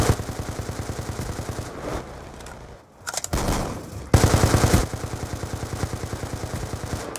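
Rapid automatic gunfire in a shooter video game, sustained bursts of fast rhythmic shots with a brief lull and a louder, nearer volley midway, no voices.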